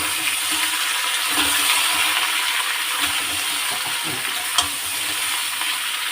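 Vegetables go into a hot pan with grated ginger and are stirred, giving a steady close sizzle with scraping and clinking of the spoon against the pan, and one sharp metallic tap near the end.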